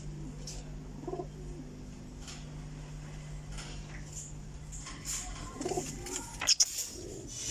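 Soft coos from a fancy-breed pigeon come in a few low, rounded phrases against a steady hum, with a brief clatter near the end.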